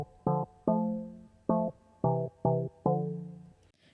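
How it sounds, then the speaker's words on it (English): A synth house stab with a plucky timbre sounds seven punchy chord hits in an uneven rhythm. Some hits are clipped short and others ring out briefly, heard alone and up close. "So it's called a house stab."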